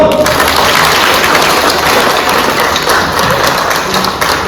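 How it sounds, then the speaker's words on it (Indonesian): Dense, loud applause from a large crowd, sustained and even throughout without pause. "Tepuk tangan dulu"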